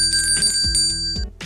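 A bright bell ringtone chimes in a quick series of metallic rings, loud and close, used as a marker sound, fading out near the end with no voices.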